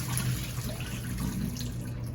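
Cold tap water runs steadily onto codfish soaking for lutefisk, a continuous soft splashing stream with no voices.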